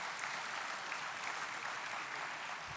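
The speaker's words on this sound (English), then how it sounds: "Let's give him a big round of applause." Audience at a Second Amendment advocacy annual event in Tennessee applauding a speaker, a steady wash of many hands clapping at moderate distance, sustained evenly without a break.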